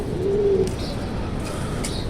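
A single short, low pigeon coo near the start, followed by faint background noise and a few light ticks.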